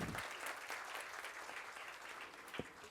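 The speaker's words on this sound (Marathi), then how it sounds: "आपण सगळ्यांनी त्यांच्यासाठी, त्यांच्या कार्यासाठी एकदा जोरदार टाळ्या वाजवूया" An audience at a competition event applauds for the trustees of a disability centre, a steady wash of many hands clapping heard from a distance, fairly faint, with one sharper clap near the end.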